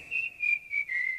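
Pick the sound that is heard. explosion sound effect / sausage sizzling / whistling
whistling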